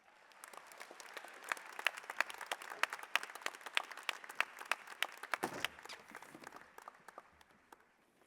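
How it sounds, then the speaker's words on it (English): An audience at a graduation ceremony applauding, with dense, steady clapping that builds and then tapers off, heard at a moderate distance with no talking over it. "Please give her another round of applause."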